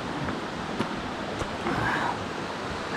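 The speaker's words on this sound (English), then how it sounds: "the waterfall." A waterfall on a trail in Lost Valley, Arkansas, a steady broadband rush of falling water with a windy, surf-like texture, moderately loud and heard without talk.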